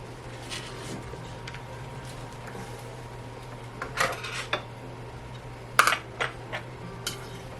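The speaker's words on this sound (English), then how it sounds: "Just gonna be really gentle and try to tip this pot over." A pot holding a large Gloriosum plant is gently tipped over, giving scattered light clinks and knocks, some close and sharp, over a steady low hum.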